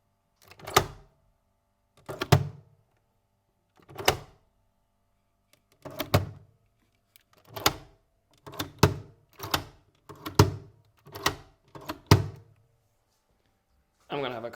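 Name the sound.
Nespresso machine opening and closing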